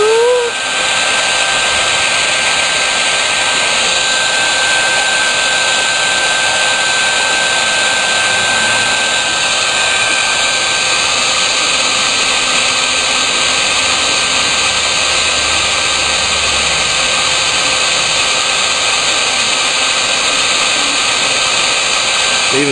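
A heat gun blows steadily while shrinking heat shrink tubing, a loud, continuous airy roar with a constant whine that holds unchanged from start to finish.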